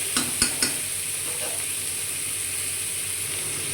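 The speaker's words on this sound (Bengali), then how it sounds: "তেলেতে একটু কাঁচা গন্ধটা কেটে যাওয়ার মতো একটু ভালো করে নাড়াচাড়া করে নেব" Onion-free stir in hot oil in a pan for a quick fish curry with potato and squash: a few sharp spoon scrapes near the start, then a faint, steady sizzling hiss that continues alone.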